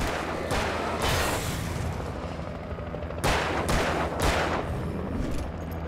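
Gunfire in the video game Alan Wake, with several loud, close bursts of shots cracking over a constant dense rumble of game sound, and no voices.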